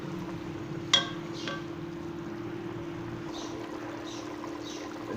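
Beef qurma simmers on high heat as its remaining water cooks off, giving a steady close bubbling hiss over a low hum, with one sharp clink near the start.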